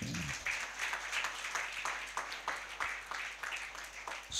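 An audience applauding during a church Sunday service, rhythmic group clapping with repeated regular bursts, moderately loud and continuous through the whole stretch, no clear speech over it.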